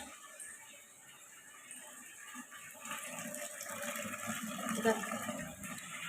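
Water from a motor-driven pump running to fill drinking water, a steady rushing flow that swells slightly partway through, with no talk over it.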